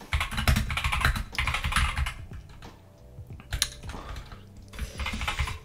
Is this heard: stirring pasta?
no